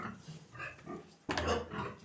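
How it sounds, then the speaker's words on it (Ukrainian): Pig grunting in a farm pen, with low snorts and grunts spread across the stretch and a louder, busier burst of grunting near the end. "Ця свинка ми ще її оставили."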